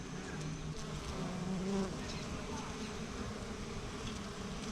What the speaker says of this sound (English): there are literally thousands of honeybees